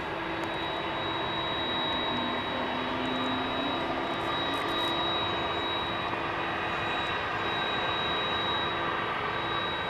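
Lightly loaded jet airliner taking off at night from Dallas Fort Worth airport, a steady loud engine roar with a whining tone and a low rising hum running throughout, no talking.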